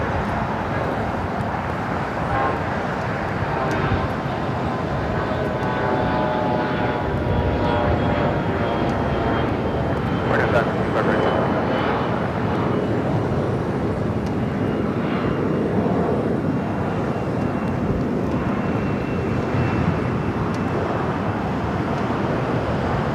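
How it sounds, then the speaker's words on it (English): A United Express SkyWest CRJ jet takes off from runway 25 right at LAX, a loud sustained engine roar with rising and falling whine, blended with wind noise over the microphone. "CRJ taking off on the 25 right"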